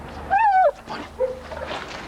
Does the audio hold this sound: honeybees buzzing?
no